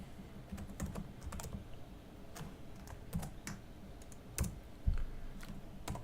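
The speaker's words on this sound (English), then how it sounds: "typing the password" Quick, irregular clicks of typing a password on a computer keyboard, close and fairly quiet, with short bursts and pauses over a soft background hum.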